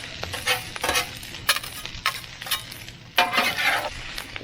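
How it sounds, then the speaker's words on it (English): Chicken fried rice with egg is stirred around a hot pan in an RV kitchen, giving a steady sizzle with repeated scraping and clinking strokes of the utensil against the pan. "You want to kind of just move it around, letting any egg that's in there cook."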